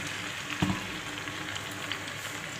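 An egg sizzles in a hot pan in a steady, close crackle, with a brief louder splash and hiss near the start as it goes in. No voices are heard.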